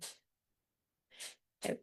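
Three quick sneezes at close range, separated by silence, during an online meeting. The last is the loudest and fullest.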